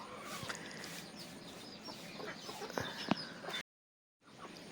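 Native country chickens around a house clucking softly at a moderate distance, a few sharper calls standing out, then a brief gap of silence before the low yard background resumes.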